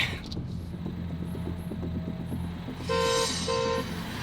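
A car engine hums while speeding through traffic, running red lights, then a horn honks twice in short blasts close by.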